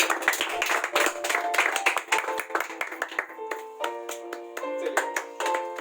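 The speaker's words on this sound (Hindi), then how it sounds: "चलिए इनके लिए जोरदार तालियां" Applause for a science quiz winner at a school prize event, brisk clapping that thins into scattered individual claps over a steady musical tone toward the end.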